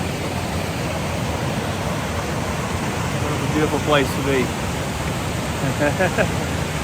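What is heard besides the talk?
river rushing through a gorge below a bridge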